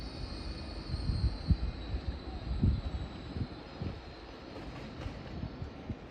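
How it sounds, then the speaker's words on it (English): The 1500 Blackpool North service pulls into York station on the East Coast Main Line, a steady low rumble of rolling wheels and engine with faint high squeal, continuous and moderately distant. "Also just arriving in is the, well, perfectly on time 1500 service from Blackpool North"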